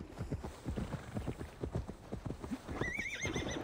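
Horse hooves clip-clop in a steady rhythm in Assassin's Creed Valhalla, close and fairly loud, with a horse whinnying near the end.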